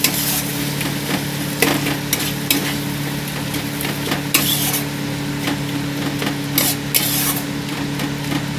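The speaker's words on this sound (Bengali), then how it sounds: "এবারে দিয়ে দেবো আমি 2টো কেটে রাখা টমেটো, দিয়ে আমি এখানে ভালো করে নাড়িয়ে নেব।" Two chopped tomatoes being stirred into cooked spice masala in a pan for malai pyaz sabji, with steady frying sizzle and intermittent scraping stirs, close and fairly loud.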